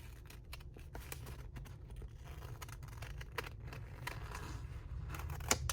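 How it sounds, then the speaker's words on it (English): Scissors cut out a paper sublimation printout for a mug, giving faint, close, quick snips and soft paper rustles at a steady pace. "I'll cut out the holes and they will fit right around the actual mug. Cut out each one like this."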